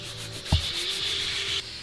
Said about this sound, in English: Got almost all of our rafters sanded down.